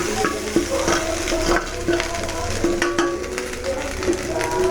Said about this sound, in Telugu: మంచిగా అన్నం ఇట్లా కలుపుకొని దీంట్లో వేసేస్తున్నా.